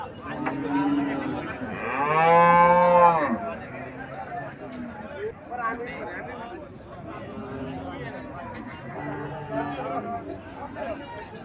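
A native Bangladeshi cow moos once, loud and close, in a long drawn-out call, with people chattering around it throughout at a cattle sale.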